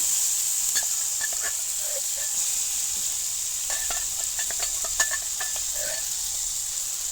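Ground spice paste goes into hot oil with frying five-spice for a village-style bamboo shoot pakora curry, giving a loud, steady sizzle dotted with sharp crackles and pops, with no talking.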